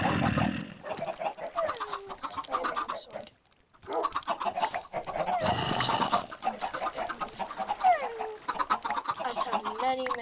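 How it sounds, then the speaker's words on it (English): Many video game chickens clucking and squawking in repeated bursts, close and busy, with a brief pause partway through. "there's too many chickens"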